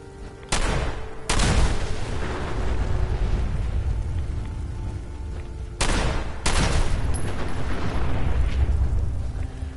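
Fireworks burst in Fallout 4, several loud booming explosions arriving in two pairs with rumbling decay between them.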